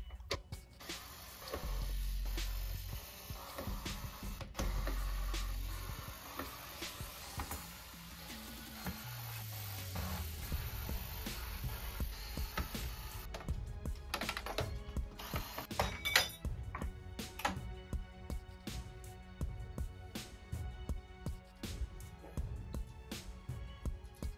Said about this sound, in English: Now we will remove a bunch of screws to remove the main LED board from the front panel.